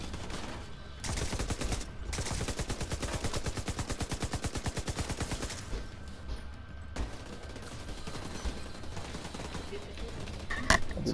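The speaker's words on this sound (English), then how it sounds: "I do not like the way this sniper shoots." Sustained rapid automatic fire in The Division 2, a long even rattle of shots lasting several seconds, then a pause and another shorter burst, fairly quiet with a sharper crack near the end.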